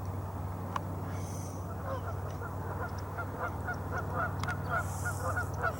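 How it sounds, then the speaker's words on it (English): Geese honking repeatedly outdoors in wetland nesting habitat, a rhythmic run of nasal calls at moderate distance over a low steady hum. "And there is a goose out there."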